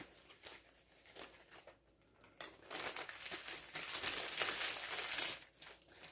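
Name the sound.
biscuits shaken in plastic bag with flour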